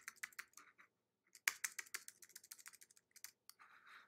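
Typing on a computer keyboard in a computer class, quick irregular bursts of light plastic key clicks, close and quiet, with a brief pause before a louder run of keystrokes and no talk.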